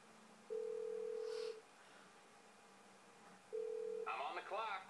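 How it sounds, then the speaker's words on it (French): Phone dialing in Grand Theft Auto V: two long, loud steady tones, the second followed by a burst of rapid electronic beeps, over a faint background hum. "Ensuite vous sortez votre téléphone et vous appelez le mécano."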